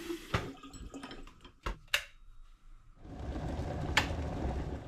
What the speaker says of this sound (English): I'm just going to stick a bit of water in the kettle.